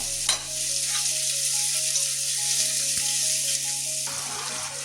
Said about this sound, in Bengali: এবারে পেঁয়াজটা কাঁচা গন্ধ যাওয়া পর্যন্ত ভেজে নেব।